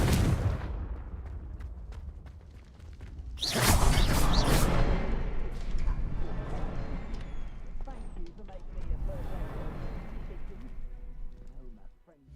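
A Confringo fire spell blast from Hogwarts Legacy erupts in a loud whooshing burst, followed by a sustained fiery rumble and game effects as a voice speaks over the combat.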